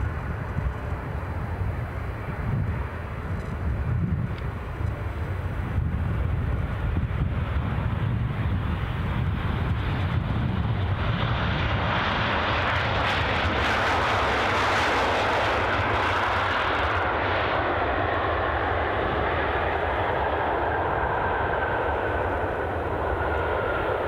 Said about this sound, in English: So our next arrival are Ryanair incomer from Prague.